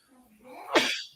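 A single close sneeze bursts out after a brief inhaling breath, loud and sharp, then fades quickly.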